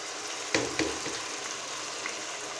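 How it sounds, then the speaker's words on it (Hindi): Marinated chicken for shawarma hits a hot pan, with two sharp hissing bursts as pieces drop in, followed by a steady, moderate sizzle. "अब डाल देंगे इसमें अपना जो चिकन हमने मिक्स करके रखा हुआ"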